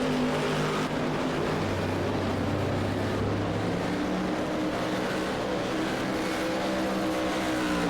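V8 GT race car engine in a sim racing game at Kyalami, a steady loud drone with sustained harmonic whine and gradual pitch shifts, running continuously without speech.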